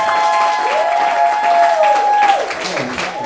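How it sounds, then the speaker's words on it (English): A church audience at a BBL event claps loudly throughout, while a voice rises and falls over the clapping near the start and the sound thins toward the end. "I'm going to give a hand clap, a mighty hand clap right now for the Nashka."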